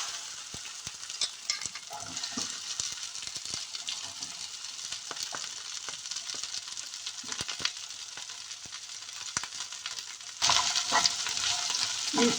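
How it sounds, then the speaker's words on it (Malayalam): Cut okra and green chillies fry in hot oil in a pan, giving a steady, close sizzle with scattered crackles and occasional stirring clinks, the frying growing louder near the end. "ഒരു പാൻ ചൂടാക്കി അതിലേക്ക് 2 ടേബിൾ സ്പൂൺ എണ്ണ ഒഴിച്ച് എണ്ണ ചൂടായപ്പോൾ ഈ കട്ട് ചെയ്ത് വെച്ചിരിക്കുന്ന വെണ്ടയ്ക്കയും പച്ചമുളകും കൂടെ ഇട്ടു"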